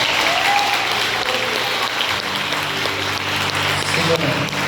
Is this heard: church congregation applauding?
yes